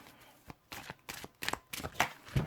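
Tarot cards are shuffled by hand in a series of quick, crisp riffles and slaps, about eight separate bursts over a couple of seconds, close and fairly quiet with no talking.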